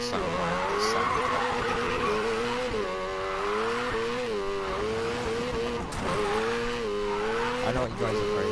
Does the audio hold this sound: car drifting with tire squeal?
yes